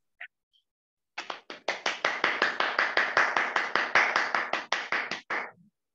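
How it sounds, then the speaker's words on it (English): Rapid hand clapping from a Toastmasters club meeting over a video call, thin and compressed through the call line, lasting a few seconds before stopping abruptly. "Everyone, please unmute and give a warm up applause to Laura."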